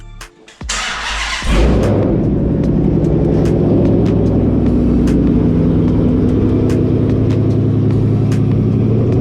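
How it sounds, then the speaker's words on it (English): A Dodge car starts up in a garage: a brief crank and a roar settle into a loud, steady, close engine idle and low rumble as it is moved out, with no talking. "So let me move the car out of the garage."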